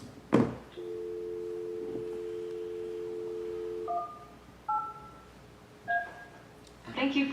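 A landline telephone in a meeting room gives a sharp click, then a steady two-tone dial tone for about three seconds, followed by a series of separate dialing beeps, loud and close with a brief clatter at the end.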